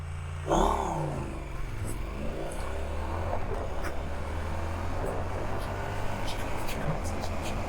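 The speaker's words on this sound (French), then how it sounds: "Je me cale au régime du couple max, 4000." A 2021 Triumph Street Twin motorcycle engine accelerating and held near 4000 rpm, a steady mid-pitched drone with wind noise beneath a rider talking over it.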